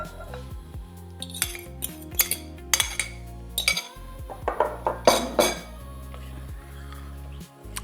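A spoon or whisk clinks and scrapes against a bowl while eggs, sugar, melted chocolate and butter are mixed, irregular close metallic taps over a faint background hum.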